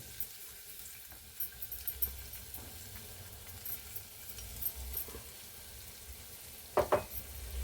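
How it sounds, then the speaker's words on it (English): Garlic frying in olive oil in a pan gives a faint, soft sizzle with occasional light stirring clatter and a brief sharper scrape near the end. "And in this pan separately, we cook up the garlic."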